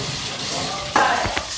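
Rain water falling in a steady, close hiss, with a brief knock and faint voice around the middle.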